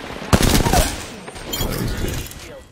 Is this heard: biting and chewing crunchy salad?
no